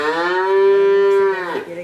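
A Fleckvieh calf at a cattle fair gives a single loud, close moo that holds a sustained tone for over a second before tailing off.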